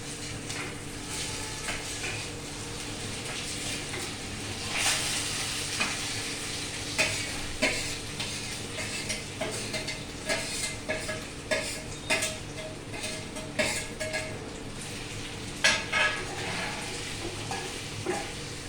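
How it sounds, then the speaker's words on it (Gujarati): Boiled potatoes fry on low gas in a pan for dahi misal. The steady sizzle runs under repeated spatula clinks and scrapes that grow frequent and rhythmic as the stirring continues. "હવે અહીંયા હું ગેસ ધીરો કરું છું અને એમાં બટાટા નાખી દઉં છું."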